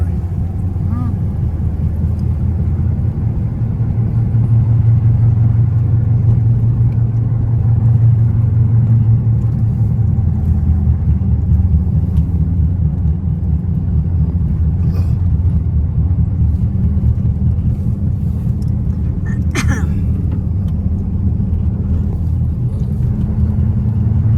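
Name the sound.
knobby tires rumbling on road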